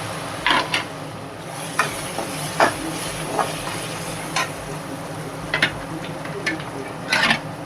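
Ginger garlic paste sautéing in a pan for Chennai-style vadacurry, a steady low sizzle broken by scattered clinks and scraping stirs of a spoon against the pan.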